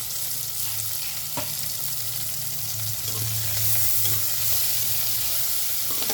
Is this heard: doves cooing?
no